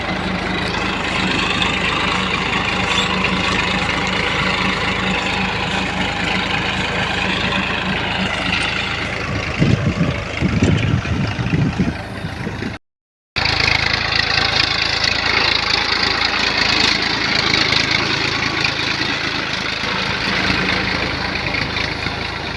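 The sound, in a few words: tractor engine running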